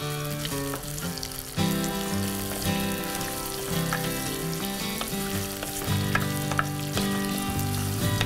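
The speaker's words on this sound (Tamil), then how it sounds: "பெரிய வெங்காயம் சும்மா தாளிக்கிறதுக்கு கொஞ்சமாக சேர்க்குறேன்" Chopped big onion fries in oil as the tempering for a tamarind puli kuzhambu, giving a steady, close sizzle beneath continuous background music.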